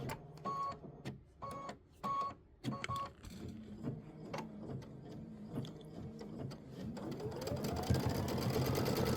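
Embroidery machine running a placement stitch: rapid mechanical needle chatter in short bursts, then a longer continuous run with a rising whine, close and fairly quiet.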